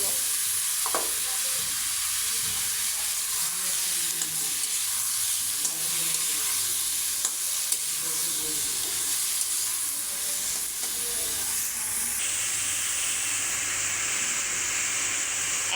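Ridge gourd pieces frying in spiced masala in a pan, a steady close sizzle with scraping stirs throughout and a brighter hiss rising near the end.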